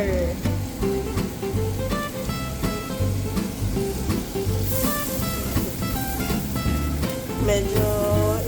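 Butter melting and sizzling with garlic in a pan, a steady frying hiss running close and continuous under background music with bright chime-like notes.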